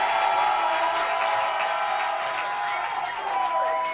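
A French television studio audience applauds throughout during a comedy talent show: a steady, dense wash of clapping and crowd noise, loud and close, with faint tonal music lines beneath.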